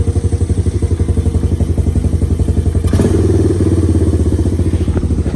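A Honda Fatcat motorcycle engine idles too high with a steady, fast, loud putter, close to the mic and running alone with no voices.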